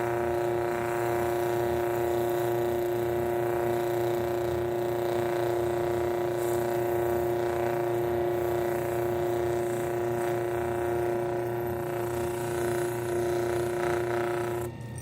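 A homemade lapidary motor polishes an ID bracelet nameplate with a steady, close mechanical whir and hum, an even grinding buzz with slight rattling texture that continues without pause.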